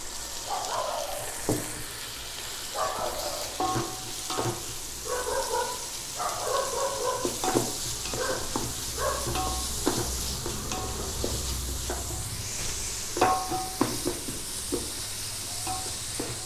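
Chopped tomatoes sizzle and get stirred in a hot pan while cooking chicken biryani, a steady frying hiss broken by repeated scraping strokes of a spoon, close and moderately loud with no talking.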